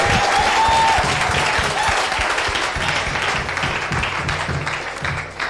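Church congregation applauding, a dense continuous wash of clapping filling the room, loud and sustained, with a voice faintly audible beneath it.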